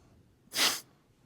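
A single sharp sneeze bursts out mid-conversation in a quiet room, close and brief, with no talking over it.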